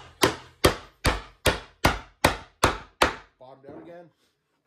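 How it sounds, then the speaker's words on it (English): A hammer or mallet strikes a wooden chisel while chopping a mortise by hand, giving eight sharp, evenly spaced knocks that are loud and close, followed by a short burst of speech. "Tap the chisel side to side to get it right where I need to get it."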